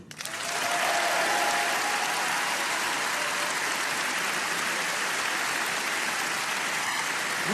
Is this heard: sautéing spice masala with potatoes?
no